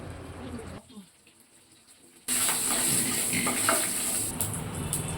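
A tempering of mustard seeds, cumin, curry leaves, red chillies and thin-cut green chillies hits hot oil. After about two seconds of near quiet, a sudden loud, steady sizzle bursts in and carries on close by.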